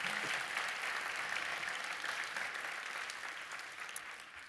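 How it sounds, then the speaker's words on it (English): An audience claps steadily through a conference session, a dense, even wash of applause that holds at moderate level and fades slightly toward the end, with no speech over it. "please make a round of applause for Helene and Frederic."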